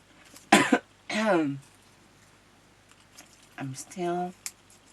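A couple of throaty coughs up close, followed by a pause and then a few more rough coughs and throat-clearing sounds.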